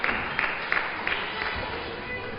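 A wrestling crowd in a contendership match between Jonny Storm and Terry Frazier, with a few rhythmic bursts of clapping at first, then a softer, steady murmur of cheering and applause, heard at a distance and fairly faint.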